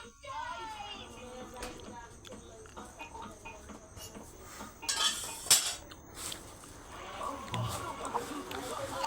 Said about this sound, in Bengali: পেঁপে আমি খাইতেছি।